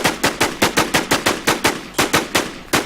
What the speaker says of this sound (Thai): เมย์ยิง ของแร่แตกบนรถอ่ะ